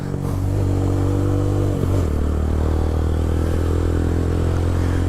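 Motorcycle engine idling loud and steady, then stumbling and dropping in pitch as it stalls, recorded close at a beach training session for riders.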